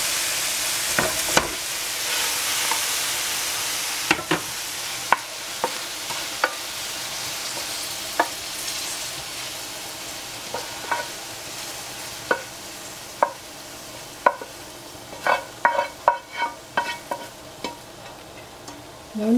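Mushrooms stir-fried in a pan with Swiss chard nearby: steady sizzling throughout, punctuated by scattered clacks and scrapes of a utensil stirring, louder bursts of stirring near the end, close and with no talking.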